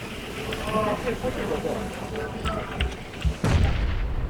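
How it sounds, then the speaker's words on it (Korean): A grenade explodes in an online shooter game, a single deep boom late in the clip that rises out of ongoing gunfire and battlefield rumble while players talk. "어머 수류탄"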